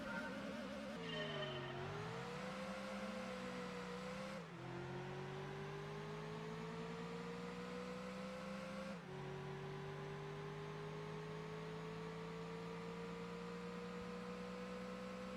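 Ford Taurus engine in a racing game, a continuous high-revving drone climbing in pitch with two abrupt drops at gear shifts, steady and loud, with no talk.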